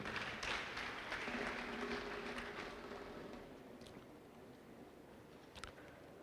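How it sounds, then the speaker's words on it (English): Applause from the audience at a pledge-taking induction ceremony, greeting the Deputy Governor of Abia State. The clapping starts fairly strong, then thins and fades toward the end, with faint talk behind it. "A round of applause for him, please."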